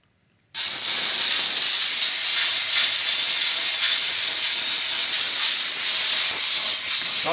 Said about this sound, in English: I'm working the steamer so hard that it's... You're getting a lot of steam in here.